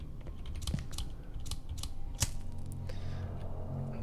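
Computer keyboard keys pressed in quick irregular taps and clacks, moderately close, over a low steady background hum.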